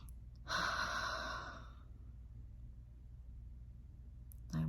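A single deep inhalation taken during a calming anxiety exercise, a soft breathy rush lasting about a second near the mic, followed by quiet room tone and a brief sound at the end.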